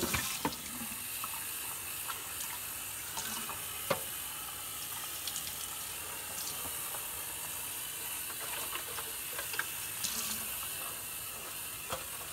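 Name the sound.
water running while rinsing Keurig K-Elite water reservoir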